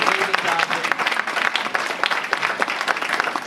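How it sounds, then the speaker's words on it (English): Audience applause for a discussion panel: steady dense clapping from a room full of people, sustained for a few seconds with faint voices mixed in. "So could you guys give them all a round of applause?"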